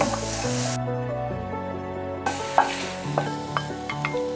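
Sliced mushrooms stir-fry in a hot pan with a splash of soy sauce, a steady sizzle with scraping and stirring taps from a utensil close up, no voices.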